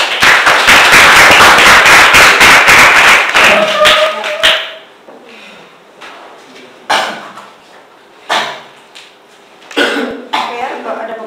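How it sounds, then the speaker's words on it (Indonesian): An audience bursts into loud, dense clapping for a few seconds, then it fades to scattered claps and a few isolated bursts, with a voice talking between them. "kasih tepuk tangan dulu kepada saya"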